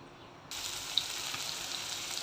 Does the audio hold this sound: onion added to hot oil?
yes